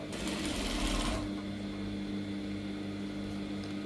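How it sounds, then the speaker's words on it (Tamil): A sewing machine stitches along the edge of a gown, starting with a brief louder burst and then settling into a steady, close mechanical whir that runs without pause. "அப்படியே ஃபுல்லாக தையல் போட போகிறேன்"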